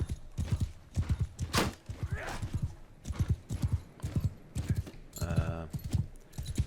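A horse gallops in the Mount & Blade II: Bannerlord video game, its steady rhythmic clip-clop of hooves carrying on throughout, with a brief neigh partway through, fairly close and with no speech.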